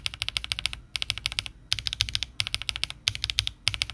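Rapid, continuous typing on a Nut65 mechanical keyboard fitted with HMX Sunset Gleam switches, built on a 1.6mm PCB with no foam. The keystrokes are close and clacky, coming in fast bursts with short pauses between them.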